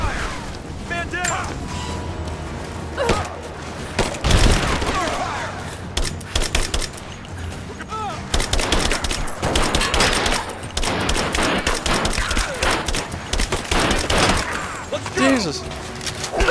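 Dense covering gunfire in the Rise of the Tomb Raider video game, with rapid bursts and booming shots crowding together almost continuously under the game's music and effects, while voices talk over the barrage.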